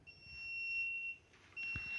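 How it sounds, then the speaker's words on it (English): A piezo buzzer on an obstacle-detecting mobile robot sounds a steady, high electronic tone, cutting off briefly partway through and then resuming, loud and close. "the piezo buzzer is buzzing"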